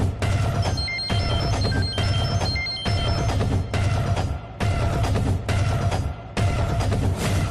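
A telephone rings loudly in repeated bursts, each ring lasting nearly a second and separated by short gaps, forming a steady pulsing pattern with no voices.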